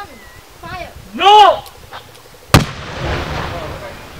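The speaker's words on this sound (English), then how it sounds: "this is a second demolition" A landmine and ordnance demolition charge goes off with one sharp, loud blast that rolls into a long rumbling decay, following shouted voices from people at the demolition site.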